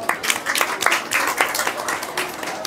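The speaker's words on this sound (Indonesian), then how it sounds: "Ya, tepuk tangan dulu untuk kedua bapak ini ya." An audience at a disability empowerment talk claps for two guest speakers, a short burst of dense, close applause that stays steady before tapering slightly.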